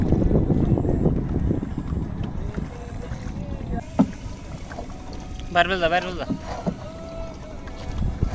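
A small wooden boat ride across the Kaliganga river, with a continuous low rumble of wind and water around the boat, occasional knocks, and a brief voice in the middle.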